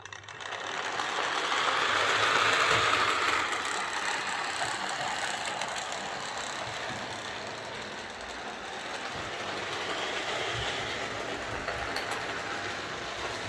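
A Hornby Dublo A4 Class model locomotive's small motor whirs and grinds continuously with a rattly, clunky mechanical texture, steady and fairly close, with no speech.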